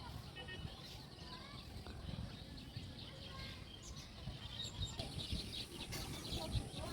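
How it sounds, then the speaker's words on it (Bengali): Faint birds chirp and tweet intermittently in the distance over a quiet, rustling outdoor background. "পাখি ডাক শুনতে পাবে তোমরা, অনেক পাখি আছে এখানে"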